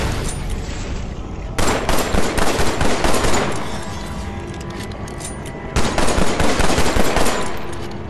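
Gunfire in the VR shooter Killing Floor VR, two loud bursts of rapid automatic fire, each lasting about two seconds, separated by a stretch of rumbling noise and softer shots.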